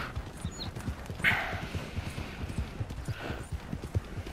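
Horse hooves clip-clop steadily in Red Dead Redemption 2, a quick continuous gallop rhythm at moderate distance, with faint background ambience and no talk.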